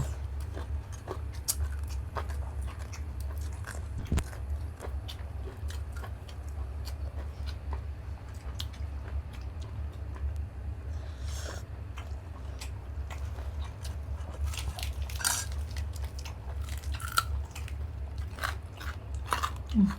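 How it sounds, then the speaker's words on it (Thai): Close, crunchy bites and chewing of crispy pork with spicy papaya salad, a steady run of crisp crackles over a low background hum, without talking. "ฟังเสียงกรอบ"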